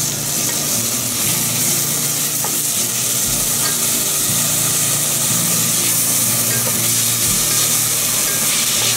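Quinoa roasting in a tablespoon of olive oil on a hot griddle gives a steady, close, loud sizzle that holds for the whole stretch, with a few soft stirring scrapes and no talking.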